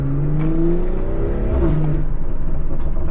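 A BMW M340i car engine revs hard and loud up close, its pitch climbing and dipping, with a steady throaty roar throughout.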